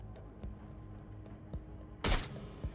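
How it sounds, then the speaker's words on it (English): Sharp gunshots from the video game Watch Dogs Legion, scattered single reports at moderate distance, ending in one louder, closer burst, with no speech. "I heard gunshots."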